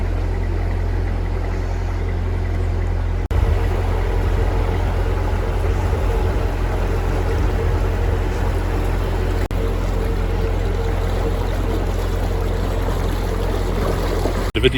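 A canal boat engine drones steadily at close range for the whole stretch as another boat passes, with a constant low hum and water wash, and no one speaking.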